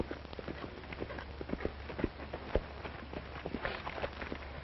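A racehorse gallops along a track, a quick run of hoofbeats from a distance with the odd sharper thud mixed in, fairly quiet and with no voices over it.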